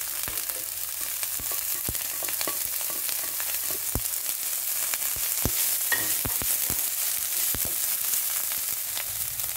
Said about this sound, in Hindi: देखिए 2 मिनट मैंने इसको फ्राई किया है